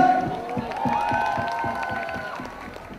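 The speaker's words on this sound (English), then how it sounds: "Clap your hands, Mitibai." A crowd claps in a rhythmic beat, mixed with cheering and a held tone over the noise.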